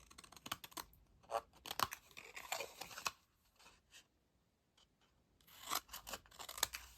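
Scissors cutting paper pieces in half for a small chocolate treat box, close crisp snips in short irregular bursts separated by brief quiet gaps.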